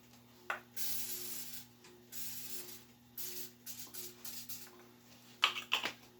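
Short hissing bursts from a spray bottle with a clogged nozzle, several uneven sputtering sprays separated by pauses, faint and close in a kitchen, with a steady low hum underneath.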